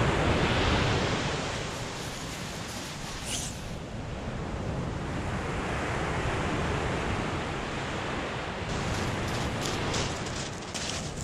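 Steady roar of sea waves breaking on the shore during beach fishing for flatfish, a continuous broadband wash that swells slightly now and then, with no voices.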